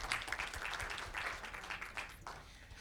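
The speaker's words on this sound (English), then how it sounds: "Let's give them a round of applause." Audience applause at a university immigration workshop session, a steady wash of clapping lasting the whole moment, moderately distant and fading slightly toward the end.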